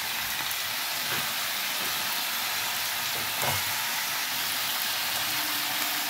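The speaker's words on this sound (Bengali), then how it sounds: "পুঁইমিটুলিগুলো আমি দিয়ে দিলাম। এবার আমি ভালোভাবে নাড়বো এগুলো।" Pui seeds (puimituli) frying in a pan give a continuous, moderately loud sizzle, punctuated by a few scraping knocks as they are stirred.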